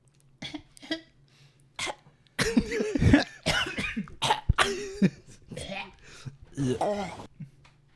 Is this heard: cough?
yes